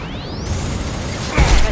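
A flashbang grenade detonates in Mass Effect 2 with a sudden loud, broad burst near the end, following a faint whooshing sweep over a steady game background.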